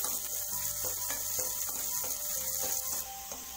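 Thinly sliced carrot fries in hot oil with a steady, dense sizzle and crackle that stays close and even throughout, easing slightly near the end, with no voices.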